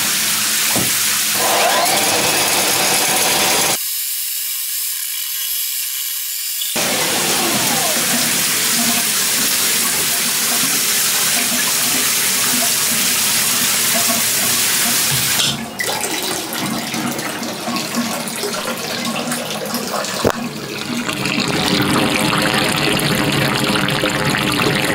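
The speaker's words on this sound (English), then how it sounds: "We have the shower running just so that we can." A bathroom shower runs steadily, a loud, continuous hiss of spraying water captured close up, with a brief muffled gap partway through and no talking.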